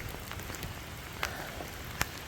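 Steady rain patters on surfaces outdoors by a canal lock in Lakefield, Ontario, a soft continuous hiss broken by a few sharper drips.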